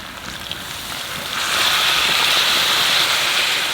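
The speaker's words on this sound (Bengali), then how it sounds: "গরম জল দিয়ে দেবো" Hot water is poured onto mutton curry frying in a pan, setting off a broad sizzling hiss that swells sharply about halfway through and then holds steady and close.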